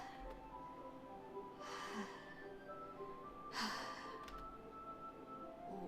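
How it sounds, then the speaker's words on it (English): Two faint sharp breathy inhales, like air sucked through teeth, in the eerie visual novel Doki Doki Literature Club, spaced about two seconds apart over a quiet, low background hum. "A sharp inhale, like someone is sucking the air through their teeth."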